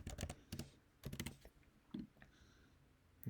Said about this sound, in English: let's type in the correct date now